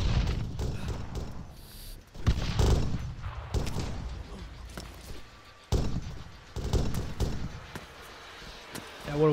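Close-range gunfire in the Arma 3 video game's King of the Hill mode, with repeated sharp bursts and single cracks scattered across the stretch over steady background noise.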